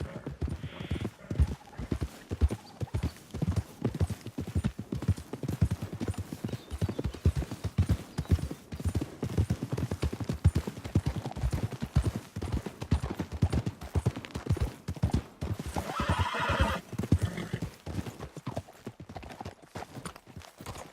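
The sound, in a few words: horse hooves clip-clop in video game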